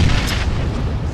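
Explosion in the PUBG battle royale video game, a single deep booming burst with rumbling low-end decay over about a second, loud and alone.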